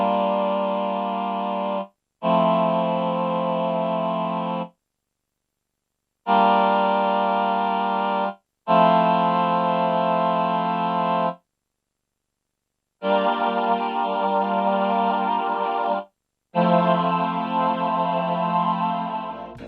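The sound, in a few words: synthesized choir with ensemble chorus effect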